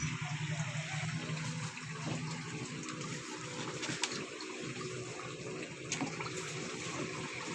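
Water poured into an air cooler at a small ice-and-water business in Pakistan, a steady, close, continuous rush of pouring water that runs unbroken throughout, with no talking.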